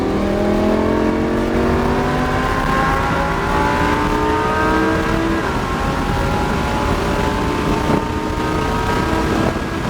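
A race car accelerates hard on a track driving course, its engine note climbing steadily through the gears, loud and close with constant wind rush over the microphone and no talking.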